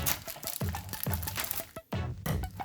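A plastic package of egg roll wrappers is cut open along the back, giving close, loud crinkling and crunching plastic sounds in quick, repeated bursts with a short pause near the end.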